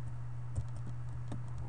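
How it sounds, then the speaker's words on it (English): Keys clack on a computer keyboard in a few sparse, light taps over a steady low hum, faint and close, with a voice talking. "We go to terminal, CD. Okay, we can type slash"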